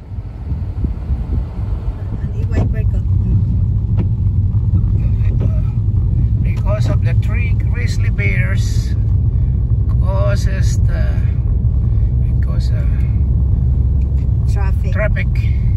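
Steady road rumble of a vehicle crawling in a long traffic queue in Yellowstone National Park, heard from inside with constant low drone, wind buffeting and voices talking over it throughout.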